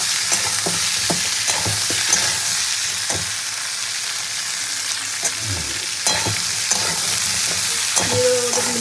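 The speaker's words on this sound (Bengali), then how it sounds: "চিংড়ি মাছটা ভেজে নিয়ে এবার এই কেটে রাখা সবজিগুলো দিয়ে দেবো।" Chopped okra, pointed gourd, potato, eggplant and pumpkin stir-fried in a pan after prawns, a steady close sizzle with repeated scraping and knocking of a utensil stirring throughout.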